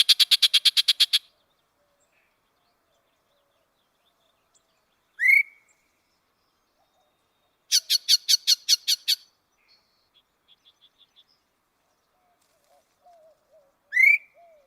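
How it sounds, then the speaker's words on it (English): A recorded song of the western yellow-breasted chat comes in separated bursts: rapid repeated chatter notes, abrupt whistled yelps and a quick series of clucks, each phrase isolated by long, near-silent gaps. "that is the song of the yellow-breasted chat"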